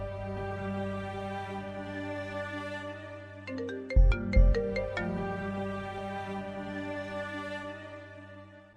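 A phone ringtone plays a steady electronic melody, loud and close, with a brief burst of chiming notes in the middle; no one speaks.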